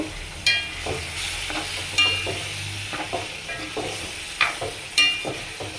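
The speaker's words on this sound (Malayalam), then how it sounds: "ഇനി നമുക്ക് വേവിച്ച് വെച്ചിരിക്കുന്ന കടല അതിലേക്ക് ഇട്ട് കൊടുക്കാം" Boiled white chickpeas are stirred into a sizzling masala in a pan over a low flame, with a steady frying hiss and a spoon clanking against the pan every second or so.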